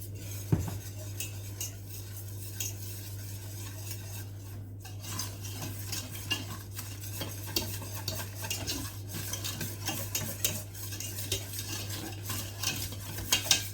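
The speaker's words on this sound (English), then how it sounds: "I'm going to add roughly an equal part of flour, get that all stirred in and cooked up." Flour is being stirred into melted butter in a pan to make a roux, giving continuous scraping and clinking of a utensil against the pan over a steady low hum, with faint sizzling and no talking.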